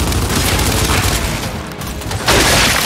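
Lancer rifle fire in Gears 5 on Insane difficulty: a loud, continuous automatic volley mixed with heavy combat noise, dipping briefly before surging again.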